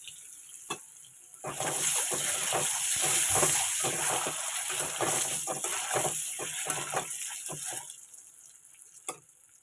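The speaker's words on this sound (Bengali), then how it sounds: "ডিমটা একটু ভালো করে ভেজে নিই" An egg fries in a pan in a home kitchen, a steady close sizzle rising after a quiet start with scattered pops and crackles, then easing off near the end.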